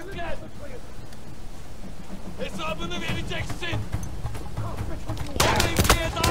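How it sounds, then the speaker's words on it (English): A firefight in the Battlefield 1 video game, with scattered gunshots and bursts of fire rising into heavier volleys near the end, over a steady background roar while voices talk throughout. "So the firefight has ensued."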